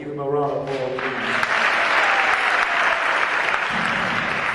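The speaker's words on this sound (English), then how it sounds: "So give him a round of applause, please." An audience claps warmly for an award recipient at a school event, applause swelling and holding steady after a brief voice at the very start.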